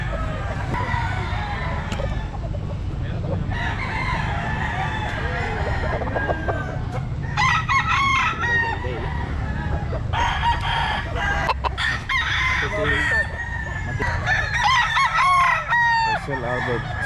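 Roosters and other fowl brought in a batch crow repeatedly at close range, with steady clucking and farm-animal chatter filling the gaps throughout.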